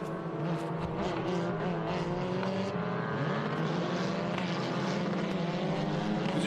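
A field of race cars rolls around a road course on a formation lap at Virginia International Raceway, engines droning steadily and blending together at a moderate distance, with no voices.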